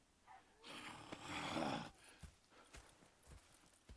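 Horse hooves clip-clop in the Red Dead Redemption 2 video game, a short run of soft, fairly distant steps under a brief breathy snort, with no talking.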